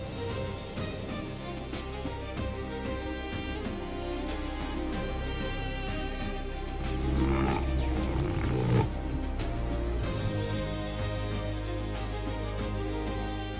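A lion cub crying in the Serengeti wild, drawn-out moaning calls over a dense, continuous layer of wild background noise, moderately loud with a swell in the middle.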